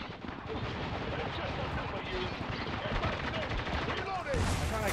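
Continuous heavy gunfire and explosive bursts from the video game Spec Ops: The Line, dense and loud throughout, with shouted speech mixed into the battle din.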